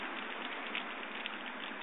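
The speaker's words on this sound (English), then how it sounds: "It is beast raining." Heavy rain pouring down outdoors just after lawn mowing, a steady dense hiss of drops with no break, fairly faint and muffled.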